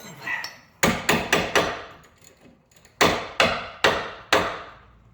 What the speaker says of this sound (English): when you do hammer on those, tap it gently